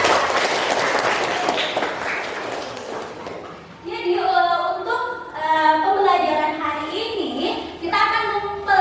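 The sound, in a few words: classroom applause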